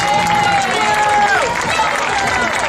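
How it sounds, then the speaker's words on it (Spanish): Applause at a youth handball trophy ceremony for the Moaña club fills the space with a dense, continuous wash of clapping from a crowd, while a voice or public-address sound runs faintly over it. "Fuerte aplauso para ellos."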